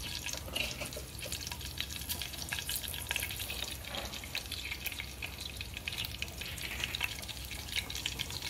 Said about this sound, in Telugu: ఇందులో కొద్దిగా జీలకర్ర వేసుకుందామండి.